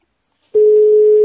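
A telephone ringing tone on a call to Denmark starts abruptly after half a second of silence, then holds as a single steady, loud, pure tone with nothing else over it.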